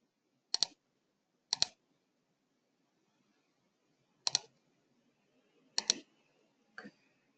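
Mouse clicks in a quiet room while a payment is matched in accounting software: four sharp double clicks spaced irregularly, followed by a softer click, all alone with no talk.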